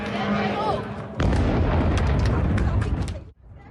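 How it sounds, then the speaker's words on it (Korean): A drone attack strikes the US consulate in Dubai: a droning roar builds, then a loud, close explosion bursts and rumbles before cutting off, with faint voices in the mix. "굉음에 이어 폭발음이 들리고"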